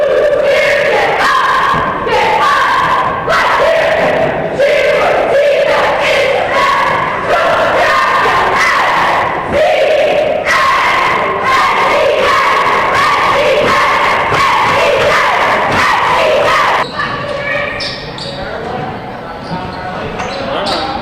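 A packed gym crowd at a boys basketball game between NCCS and Westport roars and cheers loudly and continuously, with shouting voices and sneaker and ball sounds mixed in, easing off near the end.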